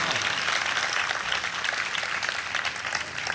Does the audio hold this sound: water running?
no